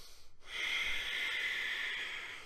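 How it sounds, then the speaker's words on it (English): A slow, controlled breath in a calming breathing exercise: after a brief pause comes one long, airy, steady breath, drawn out evenly for about two seconds, with no talking. "try and get those breaths to extend ever so slightly each time"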